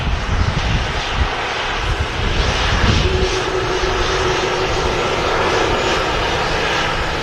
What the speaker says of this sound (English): This Ryanair just vacating in front of us is flight 4371.